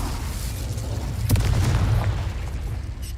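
A loud, deep explosion from the Confringo blasting spell in Hogwarts Legacy booms with a sharp crack at its start, then rumbles on beneath dense ongoing game noise.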